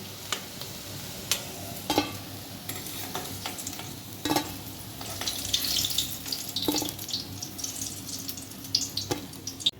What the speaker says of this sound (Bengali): কোপ্তাগুলো ভাজা হয়ে গেছে, এবার তুলে দেবো আমি।